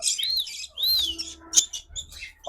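Close, shrill chirps and rising whistles from several ringneck parrots at a parrot farm, some squawks overlapping, with brief pauses between calls.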